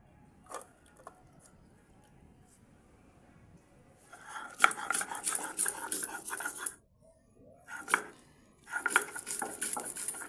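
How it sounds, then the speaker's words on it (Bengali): Soaked matar dal ground on a stone shil: bursts of scraping, grinding strokes with clattering contact, quiet at first then repeated rough passes in clusters, close and fairly loud, no talk. "ডালটা বেটে নিচ্ছি"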